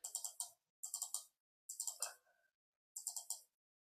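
A computer mouse clicks in four quick bursts of rapid double clicks, crisp and close in an otherwise silent room, each burst separated by a short pause.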